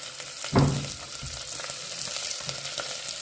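Onion pieces, green chillies and garlic sizzle in oil for coconut rice, opening with a loud burst as they drop in, then settling into a steady close crackle.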